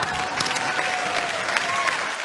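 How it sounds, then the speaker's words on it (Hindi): Thunderous applause from a comedy show audience, a dense, continuous roar of clapping filling the room, with faint crowd voices underneath. "इनके लिए भी जोरदार तालियां।"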